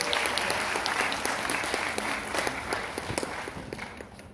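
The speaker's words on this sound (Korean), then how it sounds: "박수 한번 주세요." A room full of people claps at a talk, a dense burst of applause with sharp individual claps that gradually tapers off, with no voices over it.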